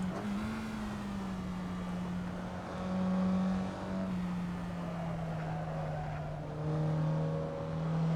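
A Mazda MX-5 drives hard around the Lime Rock race track, its engine holding a steady droning note that swells as it accelerates, with faint tire and road noise underneath and no talk.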